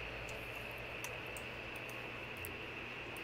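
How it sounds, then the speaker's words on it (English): In-game radio tuned to a strange signal, a steady hiss and tone with faint, irregular tick-like blips scattered over about three seconds, quiet and continuous with no voices. "sounds like Morse code"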